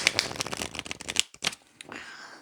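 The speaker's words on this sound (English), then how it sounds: "I'm going to shuffle some cards from the tarot deck" A tarot deck is shuffled by hand close up, giving a quick burst of crisp riffling card flutters, then a few sparse slaps and a faint rustle as the shuffle ends.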